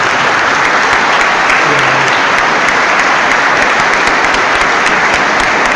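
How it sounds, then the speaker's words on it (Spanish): A church congregation bursts into loud, sustained applause, a dense wash of many clapping hands continuing evenly throughout. "Recibamos al hermano con un fuerte aplauso."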